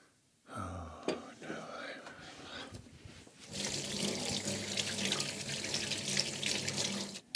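Tap water running into a sink to wet a towel in a home woodworking workshop, starting as a faint trickle and then swelling into a steady, loud gush that lasts several seconds.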